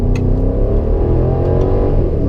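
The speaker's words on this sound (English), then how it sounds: "you just hear that V8 come to life." A BMW X5 xDrive50i V8 engine revving on a downshift, a loud, deep, continuous growl that holds strong for a couple of seconds with no talking.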